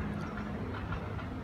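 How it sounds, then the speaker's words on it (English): A Universal Studios tour tram rolling past on a studio backlot overlooking the valley, a steady, dense rumble and rattle of wheels close by and fairly loud, with no speech. "Here comes the tram through."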